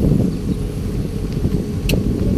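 Loud, low rumbling wind buffets the microphone continuously outdoors at a sports complex, with faint background noises underneath.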